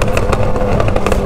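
A remapped Honda Hornet motorcycle accelerates hard at a motorcycle event, its engine holding a loud, steady, dense roar throughout.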